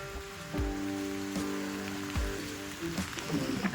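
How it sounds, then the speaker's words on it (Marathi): Constant patter of heavy rain on a surface, with a few low thuds and faint tonal hums mixed in. "अरे बघा पाऊस बघा किती आहे"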